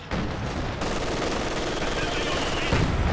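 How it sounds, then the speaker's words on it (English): Heavy mortar shell impact in Company of Heroes 2, a loud continuous burst of gunfire and explosion noise that swells toward the end, with a commentator's voice mixed in. "Oh, what a heavy mortar hit."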